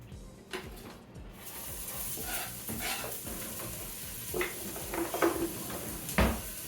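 Chopped onions sizzle in a hot pan as they are stirred around, a continuous close hiss broken by a few louder scrapes and clatters toward the end.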